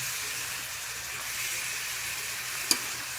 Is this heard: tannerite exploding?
no